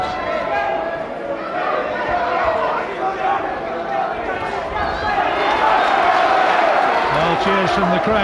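Boxing crowd at the Angel Ramirez vs Graham Earl fight, a continuous roar of cheering and chatter that swells in the second half, with a commentator talking over it.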